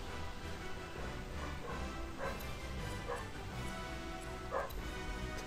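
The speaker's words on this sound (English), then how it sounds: "As my dog starts to bark in the background." A dog barks a few short times in the background, faint behind a steady wash of Madden NFL 13 video game noise.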